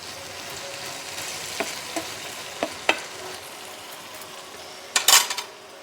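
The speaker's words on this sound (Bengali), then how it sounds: "এক থেকে 2 মিনিট করে ভালো করে একটু নাড়িয়ে নেব" A spoon scrapes and taps against a pan as chana curry fries in oil, a soft sizzle underneath, with several distinct knocks and a louder clatter near the end.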